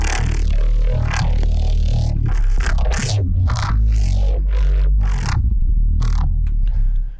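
A synth sound in Phase Plant runs through a filtering effects rack with bipolar waveform processing, giving a loud, dense tone with sweeping filtered bursts and gritty, scraping textures that pulse unevenly before cutting off.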